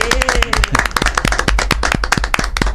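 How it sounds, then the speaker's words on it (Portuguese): A room of people claps for a company team, sharp, close, irregular hand claps in a brisk burst while voices call out underneath. "Vamos acabar esse com uma salva de palmas para todo o time do Grupo Home ABC."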